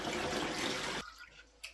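Distilled water for a 50-50 coolant mix pours in a loud, splashing gush for about a second, then cuts off, leaving a faint trickle and a small drip.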